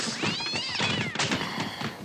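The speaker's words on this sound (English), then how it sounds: "What's funny is that actually was a cat that made that sound." A cat lets out a loud, drawn-out, wavering meow close by, sliding up and down in pitch, with a brief break in the middle and no talking.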